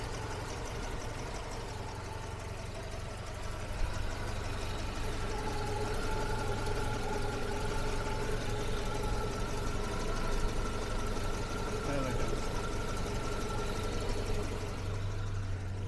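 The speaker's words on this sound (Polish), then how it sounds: "No, tak brzmi silnik gazem." A Volga 24 car engine running on gas idles steadily and evenly throughout, a constant mid-low hum with faint ticking, close and unbroken, no voices.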